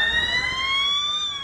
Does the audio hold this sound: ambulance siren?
yes